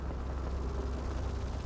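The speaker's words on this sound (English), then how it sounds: "This is the sound of your brain firing." Brain electrical activity turned into sound gives a dense, rumbling wash of noise, heavy in the low end with a constant flickering texture, steady and loud throughout with no voices.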